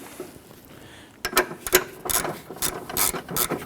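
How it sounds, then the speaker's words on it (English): A socket ratchet with an extension clicks in quick bursts, threading a bolt into a passenger-side engine mount on a 2009-2015 Honda Pilot, the first second near-silent before the close, sharp pawl ticks begin. "I'm just going to use my socket and extension to go ahead and reach down and see if I can get that lined up"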